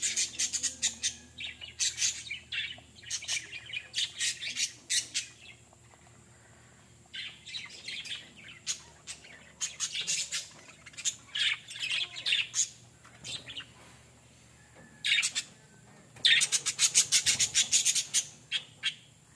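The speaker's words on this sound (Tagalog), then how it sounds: "Is that a bird? It's a lovebird." A lovebird squawks and chirps nearby during a camping trip in a mini van, in repeated bursts of shrill calls separated by short pauses, with no talking.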